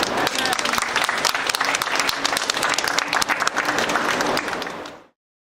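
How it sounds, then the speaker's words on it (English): A crowd at a Baltimore solidarity rally for Ferguson claps and cheers loudly in a dense, sustained burst that cuts off abruptly. "round of applause"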